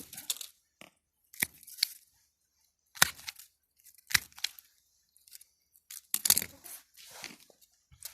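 Caviar lime branches being cut for cuttings: a series of sharp, close snips and crisp rustles, each separated by pauses, with an uneven rhythm.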